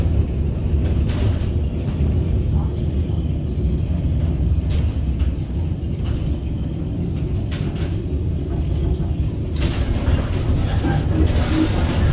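A Christchurch tourist tram rolls through the city with a continuous loud rumble of wheels on rail, joined near the end by high squealing as it takes a tight turn.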